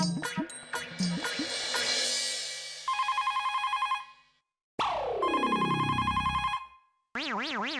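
A telephone rings with repeated electronic bursts in an Indian sitcom household scene, interleaved with a descending sweep and warbling tones, loud and close with no talk over it.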